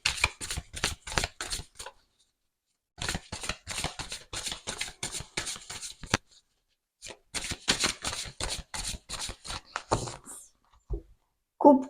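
Oracle deity cards shuffled by hand in three long bursts of dense, crisp riffling, close and fairly quiet, separated by brief pauses, with a faint tap at the end.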